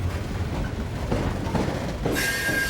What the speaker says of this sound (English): The train is returning to a mine located somewhere in northern West Virginia.